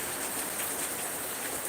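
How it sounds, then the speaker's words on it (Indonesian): Steady rain falling in Halong, Vietnam on a cloudy morning, a continuous broadband hiss with no breaks, moderately loud and close, heard alone without talk. "Ini Halong lagi hujan nih"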